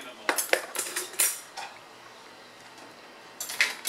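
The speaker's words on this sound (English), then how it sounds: "Oh, fork." Metal cutlery, a fork among knives and spoons, clinks and rattles in a few quick bright clusters, then goes quiet before another jingle, close and alone.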